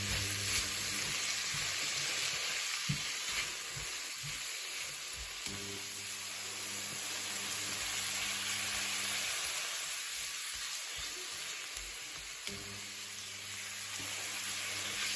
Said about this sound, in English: So we are just going to cook this veg for about 3 minutes.